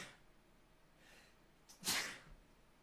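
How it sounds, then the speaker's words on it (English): A quick sneeze bursts out near the end, with faint breathy sneezes or sniffs just before it, close and sharp against a quiet background. "Ooh, a quad sneeze."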